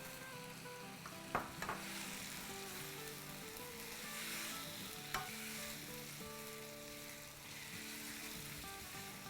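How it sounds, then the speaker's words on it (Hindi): Onions with ginger and garlic sizzle steadily in hot oil while a spoon stirs them, scraping the pan with a couple of sharper clinks, close and quiet with no talk. "बस इसको हम अदरक लहसुन को प्याज़ों को 3 मिनट 4 मिनट तक भूनेंगे"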